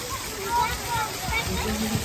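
Warm water sloshes and splashes continuously in an outdoor park water-play area, close and fairly loud, with people talking over it.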